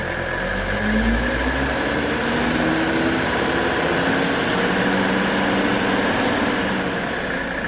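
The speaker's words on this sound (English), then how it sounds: "now I'm going to just give it some RPMs, let the oil circulate" A 1979 Mercedes 300SD diesel engine runs with a steady rumbling drone, revs held up and fluctuating slightly, close and continuous with no voices.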